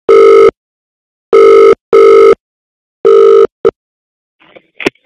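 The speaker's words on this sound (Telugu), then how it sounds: "ఆటో డ్రైవర్ రాంప్రసాద్ కి ఫోన్ చేద్దాం." Telephone ringback tone heard while a call is being placed: four loud, steady tone bursts with gaps between them, then a short blip and faint clicks as the line connects.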